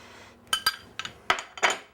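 Hollandaise sauce made with butter is stirred vigorously in a bowl: a quick run of sharp, close, quiet clinks as a utensil knocks the bowl, coming in small irregular bursts.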